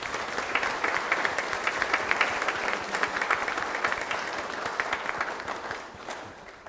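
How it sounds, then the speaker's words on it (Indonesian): A church congregation claps together at a Christmas Day service, dense and steady applause filling the room before slowly tapering off near the end. "Mari kita sambut dengan tepuk tangan yang meriah."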